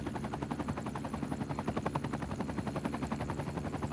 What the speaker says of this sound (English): I think this helicopter is picking up somebody here at this building that died or needs help.